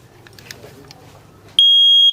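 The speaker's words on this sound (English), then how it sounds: "that is the sound that it will make when it picks up smoke in the room" A smoke detector's test alarm goes off after its button is pressed, a loud, piercing steady electronic tone that cuts in abruptly after some quiet handling noise and holds for about half a second.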